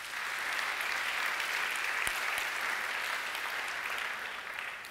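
A church congregation applauds in a dense, sustained wash of clapping that continues evenly for about five seconds.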